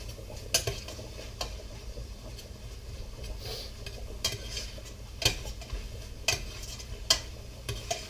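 Ground beef browns in a pan for stuffed peppers: a steady low sizzle runs under a handful of sharp spatula scrapes and clicks against the pan, spaced irregularly.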